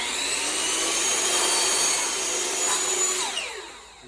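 A chop saw cuts a piece of wood set against a stop on the fence, giving a loud sustained whine that fades as the blade spins down.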